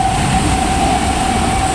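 An elevated metro train passes overhead along Sukhumvit in Bangkok, making a loud, steady rumble with a sustained tonal whine throughout. No one talks.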